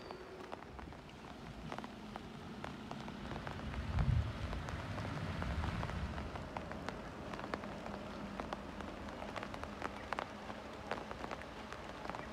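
Light drizzle falling outdoors in the Vagamon hills, a soft steady patter of scattered drops with faint ambient hiss, fairly quiet and without voices.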